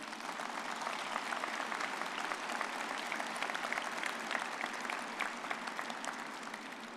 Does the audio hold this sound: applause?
yes